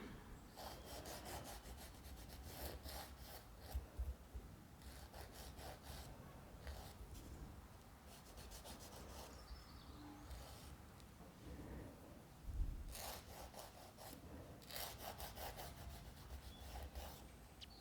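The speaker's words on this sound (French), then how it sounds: "Je lime droit côté." Fingernail being filed with a nail file during a gel polish manicure, faint close rhythmic rasping strokes in repeated bursts with pauses between.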